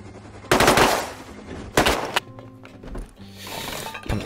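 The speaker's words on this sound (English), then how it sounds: "Shotgun in the refinery." Shotgun blasts ring out in the Rust video game, two loud, sharp reports about a second apart with echoing tails, followed by quieter clicks and thuds.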